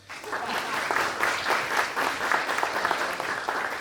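Audience applause at a literary talk event, a dense and steady wash of clapping that stays moderately loud and close throughout, with no voice over it.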